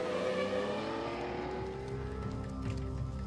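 Niki Lauda's red Ferrari race car runs on the track, its engine a loud sustained whine with rising and falling harmonic pitch, heard alone without voices.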